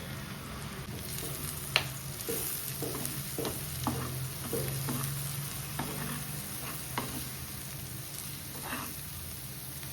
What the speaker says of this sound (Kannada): ಇದು ಇವಾಗ ಚೆನ್ನಾಗಿ ಫ್ರೈ ಆಗಬೇಕು, ಆದರೆ ಹೈ ಫ್ಲೇಮ್ನಲ್ಲ, ಲೋ ಫ್ಲೇಮ್ನಲ್ಲಿ.